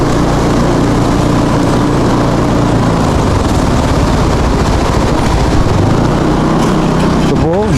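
Motorcycle engine passing over a worn, damaged hanging bridge, a loud continuous drone with rumbling low tones that swells and shifts pitch near the end, captured close outdoors.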